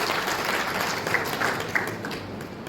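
An audience at an annual Bharat Vikas Parishad function applauds warmly to welcome a guest, a steady dense clapping that carries through the whole moment.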